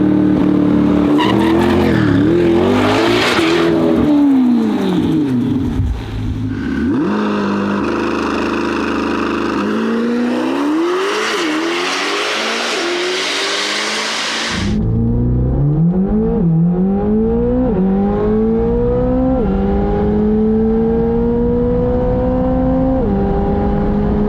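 A Corvette ZR1X makes a hot-weather drag race run, its engine loud and close as it climbs through repeated rising gear sweeps with short shift breaks, first harsh and roaring, then a smoother run of climbing tones.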